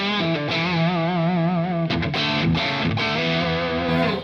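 Distorted electric guitar chords ring out through a Friedman amp, sustained notes wavering with a wide wash from a Collider reverb pedal, a few quick chord changes in the middle.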